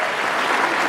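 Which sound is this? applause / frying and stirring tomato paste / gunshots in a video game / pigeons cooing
applause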